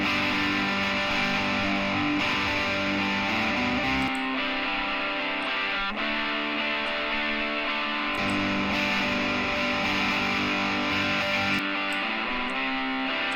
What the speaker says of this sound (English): This is how this guitar sounds panned to the extreme left without any plugins